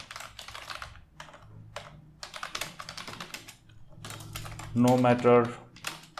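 Quick bursts of typing on a computer keyboard while entering page content, close and steady with short pauses, as a voice speaks briefly near the end.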